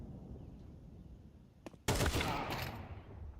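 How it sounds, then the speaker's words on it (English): A sniper rifle shot rings out in a Counter-Strike match, an AWP firing as one sharp loud crack followed by a brief ringing tail, after a quiet lead-in with a faint click just before. "Lash, though, nice find here with the AWP"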